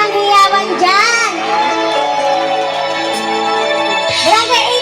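A crowd at a mini concert during a fiesta show event cheers and shouts loudly and steadily, with high excited voices, some childlike, rising in bursts at the start and near the end.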